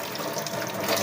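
Fish (surmai) being rinsed under a running kitchen tap, a steady close splash and trickle of water with no talk.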